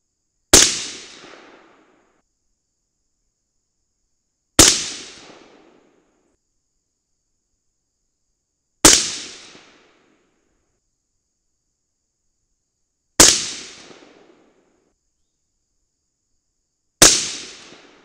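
Rifle shots from Hornady 55gr FMJBT bullets loaded with 27 grains of Varget powder: five loud, sharp cracks spaced about four seconds apart, each ringing briefly into an outdoor echo before silence.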